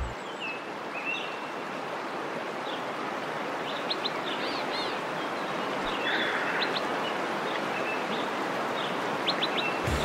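Small birds chirp in brief, high, scattered calls along a forest path at Amboli, faint above the constant rush of a nearby stream.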